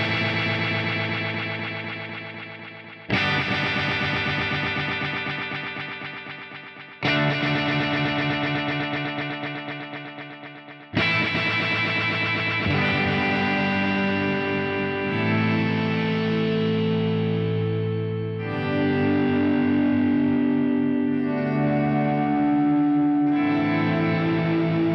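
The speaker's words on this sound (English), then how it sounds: "This is a lot of delay." Electric guitar through a Fractal unit with heavy stereo cross-feedback delay, playing sustained chords that ring out and repeat in dense echoing layers, building into a thick wash over the full length, no voices.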